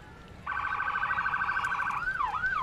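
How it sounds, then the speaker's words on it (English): A sheriff's vehicle siren sounds during a Christmas parade, starting abruptly as a loud, rapid electronic warble and then switching to a swooping wail near the end. "They like to hear the sirens and see the blue lights flashing."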